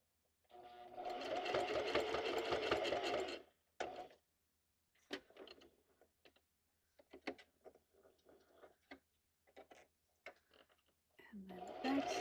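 A sewing machine stitches a junk journal in a steady burst of rapid whirring, followed by short stop-start runs and clicks, then the motor starts again at the end; faint talk comes through between bursts.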